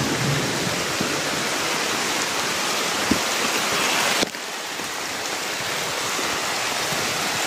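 Steady hiss of heavy rain in a video game fills the whole clip, with a brief dip in intensity partway through before the downpour continues.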